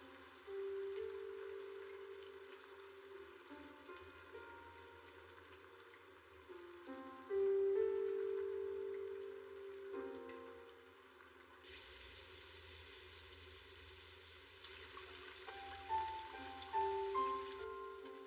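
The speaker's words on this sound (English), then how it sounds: "I used to camp out in the rain just like this, all the time." Rain falls steadily in an anime scene, a soft continuous patter beneath sustained music, with no voices during the stretch.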